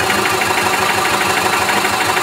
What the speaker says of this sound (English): You should not hear the engine throttle up,